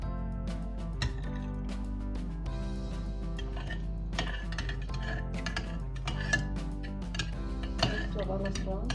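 Yeast mixture with butter being stirred in a bowl for baursak dough, with continuous clinking and scraping of a utensil against the bowl in quick irregular strokes, close and fairly clear; a voice talks at times.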